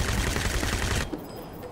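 Rapid automatic gunfire from Crysis Warhead, a loud dense burst of rattling shots that cuts off abruptly partway through, followed by quieter ambient game sound.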